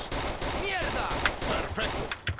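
Rapid gunfire in the Rainbow Six Vegas video game, a tight run of close, loud shots in quick succession with short gaps and ringing tails, under a voice.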